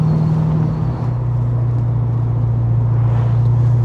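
Deep, steady V8 exhaust drone from a 525 hp LS3-swapped ND Miata cruising, with a low, even rumble that holds near and loud throughout, with no talk over it.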